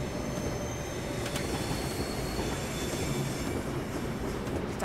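Train wheels squealing around a curve in a British train simulator game, the class 350 EMU running on the West Coast Main Line, with a steady rumbling roll under high, thin squeal tones and no talking.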